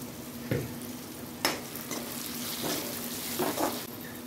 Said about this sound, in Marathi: याला आपण आम्ही इथं फ्राय करून घेऊया हलकंसं। मटर पण इथं फ्राय झालेलं आहे